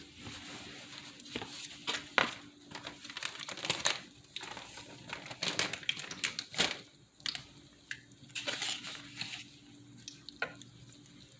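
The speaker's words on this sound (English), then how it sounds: "Just going to fry these until they get crispy" Taco shells frying in medium-low oil until crisp give off a steady sizzle with crackling pops and stirring rustles, close and moderately loud, with no talking.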